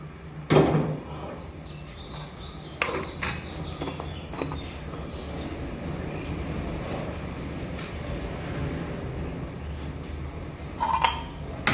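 Dishes, pots and cutlery clink and clatter close by in a village home kitchen, with scattered sharp knocks and rattles at the start and end over a quieter steady background.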